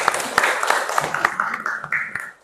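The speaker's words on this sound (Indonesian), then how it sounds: "Kita berikan tepuk tangan kepada diri kita semua." A classroom of schoolchildren claps together, a dense, steady patter of many small hands lasting a couple of seconds before tapering off, fairly close and moderately loud.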